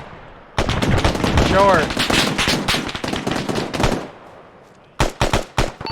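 Bursts of close, loud gunfire crack through military platoon training with Marines of the 15th MEU, rapid shots in clusters, first in a long volley and then in sharp separate bursts near the end, with voices shouting over the shooting.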